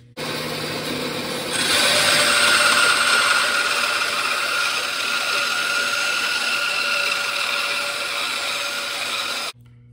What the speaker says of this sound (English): I'm going to run my wood through like this in order to cut these very thin strips